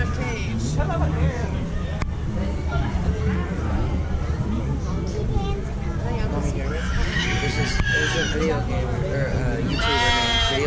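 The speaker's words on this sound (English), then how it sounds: "He's a donkey." A fluffy donkey in a pen at the Georgia State Fair gives a braying, whinnying call amid steady crowd chatter, with people talking nearby throughout.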